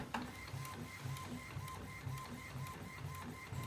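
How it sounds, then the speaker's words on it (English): An Epson L805 inkjet printer with water-based ink prints onto dark inkjet transfer paper, making a steady rhythmic whirring and clicking as the print head passes back and forth at regular intervals, close and continuous. "Print the image using Alizarin's HTW-300R dark inkjet transfer paper."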